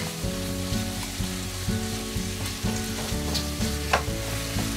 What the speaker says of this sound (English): Let's cook the shrimps until they are pink.